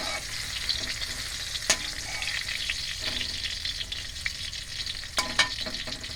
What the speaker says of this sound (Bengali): পটলটা প্রথমে ভেজে তুলে নিচ্ছি।